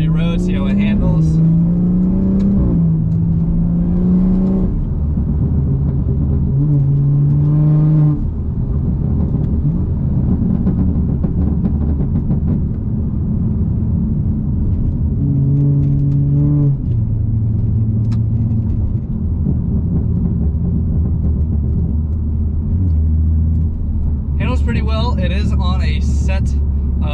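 A BMW 340i accelerating on a curvy road, its engine note rising and falling through several gear changes, with a loud, steady rumble heard from inside the car and a person talking over it.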